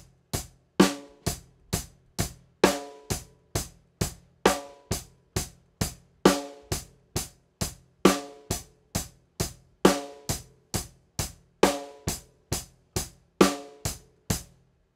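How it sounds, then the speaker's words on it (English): Rock drum beat played alone in a steady loop, with kick and hi-hat notes and the snare landing on beats two and four, crisp and evenly spaced throughout. "and all of the rest of the notes are going to be kick and hi-hats."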